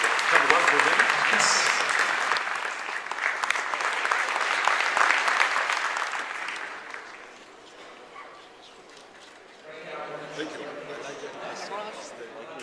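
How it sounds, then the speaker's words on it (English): Sustained applause from a conference audience fills the first seven seconds, then thins out, and a voice speaks over the room afterward. "we'll give them another round of applause"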